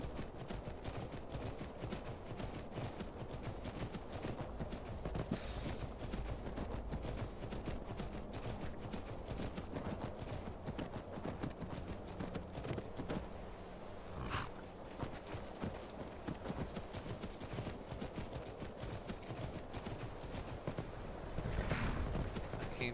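Steady hoof clip-clops of a walking horse in the game Skyrim, continuous and fairly close, with a brief whinny-like burst near the end.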